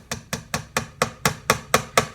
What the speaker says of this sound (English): I'll take my brass hammer and we'll drive it down.